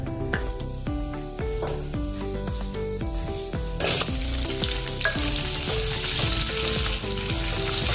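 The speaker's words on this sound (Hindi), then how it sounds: "तेल गर्म हो गया है। अभी इसमें डालेंगे अजवाइन।" Ajwain seeds hit hot oil in a kadhai and crackle, followed by a louder, continuous sizzle with repeated metallic spoon scrapes and taps against the pan, all close and without talk.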